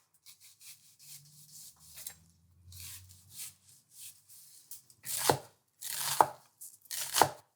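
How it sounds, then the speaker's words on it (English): An onion is chopped with a knife on a cutting board, a run of soft slicing strokes followed by several louder, sharper chops near the end. "After I chop my onion"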